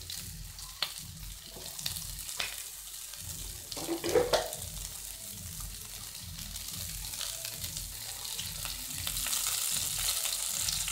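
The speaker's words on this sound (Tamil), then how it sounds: "நல்லா வெங்காயம் வதக்கட்டுங்க." Onions sautéing in coconut oil, with a steady sizzle and occasional stirring scrapes, close and continuous with no talk.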